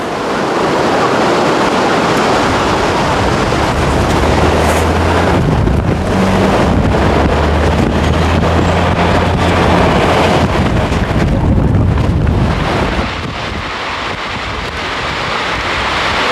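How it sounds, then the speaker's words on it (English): A strong gusting windstorm in Portland roars loudly and continuously, buffeting the microphone with a deep, surf-like rush that eases slightly near the end. "The highest reported wind gust in the last hour here in Portland was 61 miles per hour"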